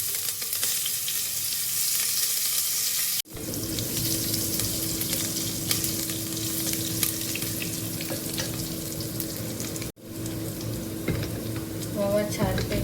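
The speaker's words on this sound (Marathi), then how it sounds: "ओवा छानपैकी तडकलेला आहे" Ajwain seeds and green chillies sizzle and crackle steadily in hot oil for a carrot mixed-vegetable dish, a close continuous frying hiss broken by two brief cuts, with faint clinks near the end.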